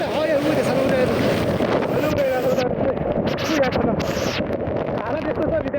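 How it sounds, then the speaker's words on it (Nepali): Strong gusting wind at a college campus in Tikapur under a dark stormy sky, a loud continuous roar buffeting the microphone throughout, with someone talking over it. "पुरै स्पिड हावा पुरै मान्छे उडाउने जस्तो हावा लागिरहेको छ यहाँनिर पुरै"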